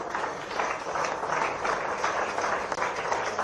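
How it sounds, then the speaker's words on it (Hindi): A ceremony crowd honouring a champion daughter claps steadily, a dense, fairly distant wash of applause that holds evenly for a few seconds with no talk over it. "एक बार आप सबकी जोरदार तालियां।"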